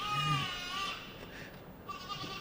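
A young dairy goat at a show bleats in wavering, nasal calls, one near the start and another toward the end, over a busy murmuring background.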